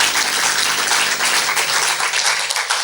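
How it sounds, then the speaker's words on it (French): Audience applause at a Gabonese talk program about women's rights, a steady dense wash of many hands clapping together, fairly close and even, with no voices over it. "Ça s'applaudit également."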